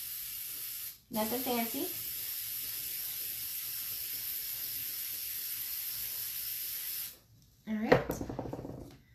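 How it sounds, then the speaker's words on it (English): A long, steady aerosol spray paint hiss for several seconds, sprayed onto a fabric tumbler, bracketed by brief speech before and after. "we're just going to take our spray and spray it right on top."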